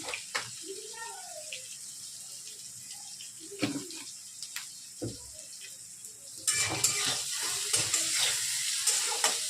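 Cut potatoes with turmeric powder and salt fry in a pan for a vegan thor ghonto: quiet scrapes and clinks of stirring at first, then a steady, louder oil sizzle takes over for the last few seconds.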